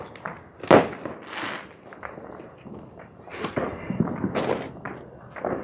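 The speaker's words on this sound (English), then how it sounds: "I actually bought these fireworks from the store if you knew that" Store-bought Fourth of July fireworks pop and crackle outdoors in a few sharp bursts, the loudest near the start, followed by scattered cracks and rustling, with faint voices now and then.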